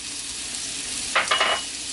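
Four cloves of chopped garlic hit a pan of simmering charro beans, and a short burst of loud sizzling and spatter rises out of the steady background hiss before settling.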